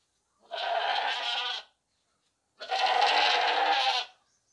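A large reddish-brown sacrificial billy goat on a livestock market, tethered by a collar, bleats loudly twice, each long call lasting over a second with a pause between.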